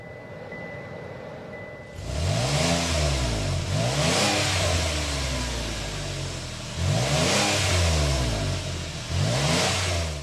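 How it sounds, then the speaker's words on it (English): A Cadillac XT6 VVT V6 starts, then revs in several loud rising-and-falling bursts of exhaust note with a steady idle between them, heard close with no talking. "start the VVT V6 so you can hear that exhaust note"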